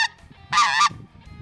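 A goose gives a single loud, nasal honk out in reed-lined hunting grounds, standing alone above faint low background rumble, with a brief call just before it.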